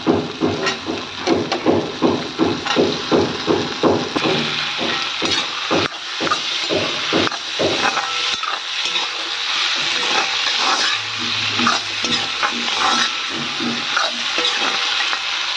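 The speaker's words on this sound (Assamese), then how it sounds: "আলুখিনি অকণমান ভাজি ল'ব লাগিব" Potatoes fry in a pan while being stirred, giving a steady close sizzle broken by rhythmic scraping strokes through the first half, then a continuous hiss.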